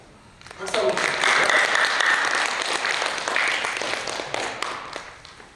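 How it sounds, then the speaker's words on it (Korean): An audience at a student reporter program's graduation ceremony starts clapping after a brief pause, a full, sustained round of applause that gradually thins near the end. "박수 한번 부탁드립니다."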